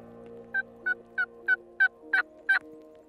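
Wild turkey in Wyoming gives seven short, evenly spaced calls, fairly close and distinct, rising slightly in strength toward the end over a faint steady background hum.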